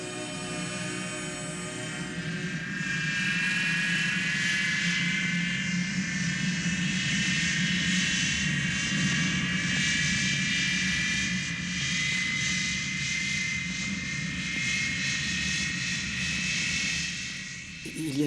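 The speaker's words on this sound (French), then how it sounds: "On prend cet avion là-bas?" Airplane engine, a steady droning roar with sustained high whine that holds throughout at moderate level, swelling slightly after the opening seconds and ending with a faint clatter.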